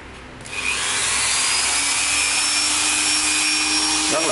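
A Japanese speed-adjustable power tool starts up and then runs steadily at high speed with a smooth, even whine. It is close and loud, and no one speaks.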